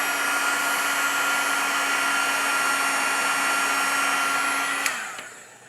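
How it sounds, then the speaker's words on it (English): A heat tool blows hot air for heat embossing a card, giving a loud, steady whooshing drone close to the microphone that runs for about five seconds before being switched off and winding down, with no talking. "So we're going to heat emboss this."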